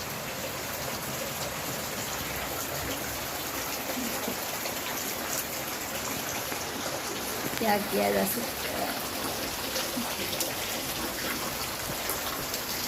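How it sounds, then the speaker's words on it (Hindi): Steady rain hiss fills the whole stretch, with a person speaking briefly in Hindi partway through. "बारिश हो गई है शुरू मेरे जस्ट पीछे"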